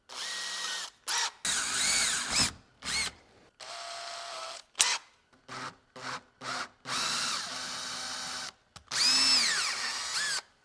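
A power drill bores a 7/64 inch hole for a bracket on an off-road carburetor, loud whining bursts that start and stop repeatedly, some long and some short, close by with no talking.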